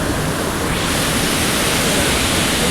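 Hogenakkal waterfall rushing with a dense, steady broadband roar of falling water, close and loud and unbroken throughout.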